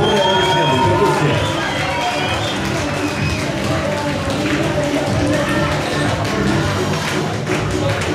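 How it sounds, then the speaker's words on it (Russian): A live concert crowd in Almaty applauds and cheers steadily and loudly throughout, with dense clapping and scattered shouts filling the room. "Более аплодисменты"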